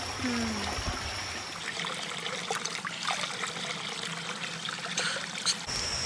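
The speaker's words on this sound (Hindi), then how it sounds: "ये पानी इस साइड पे जो आ रहा है" Water from a waterfall spring in Japanese mountains pours and trickles steadily, a close continuous rushing wash with faint voices in the background.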